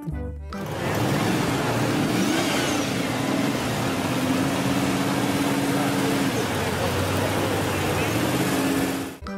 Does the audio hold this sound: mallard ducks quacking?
no